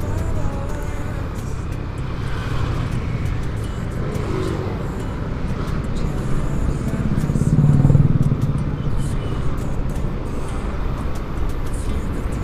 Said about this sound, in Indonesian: Wah, motor apa tuh? Ninja kah?